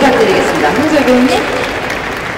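Audience applause fills a festival open-talk stage event at the Busan International Film Festival for a film's director and cast, steady and dense throughout, with faint voices rising over it and a slight fade toward the end.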